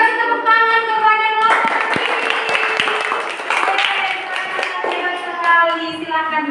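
Classroom applause for a student in a primary class, a burst of clapping hands that swells after a second and continues steadily, mixed with children's voices and bright tonal sounds throughout.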